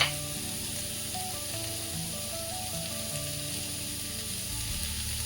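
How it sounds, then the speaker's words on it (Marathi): Guava pieces sautéing in hot tempering oil for a quick vegetable dish, a steady close sizzle and crackle running unbroken throughout, with no talking. "फोडणीमध्ये सगळे पेरूच्या फोडी आहेत त्या परतून घ्यायचं"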